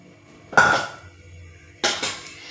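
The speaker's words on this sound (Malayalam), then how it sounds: "അടുക്കളയിൽ പാത്രം വയ്ക്കാൻ സ്ഥലമില്ലാതെ എല്ലാം നിരത്തി പറിച്ച് വെച്ചേക്കാം" Two separate clanks of pots and pans being set down on a hard surface, about a second apart, fairly close and loud with nothing else in between.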